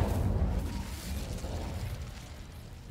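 A fire spell, Incendio, cast in Hogwarts Legacy inside a dark Acromantula spider cave: a loud rumbling whoosh of flame that swells at once and then rolls on as a steady roar for several seconds.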